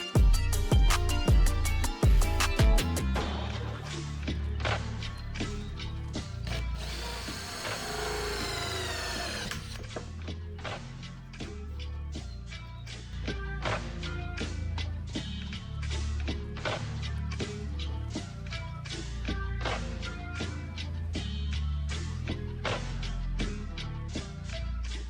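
A drill bores a hole in a bus being converted into a camper, for a grey water tank. A fast run of sharp clicks opens, then a brief whine. Steady, rapid ticking and knocking follow for the rest of the stretch.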